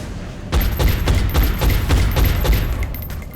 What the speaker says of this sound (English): I'm taking heavy fire over here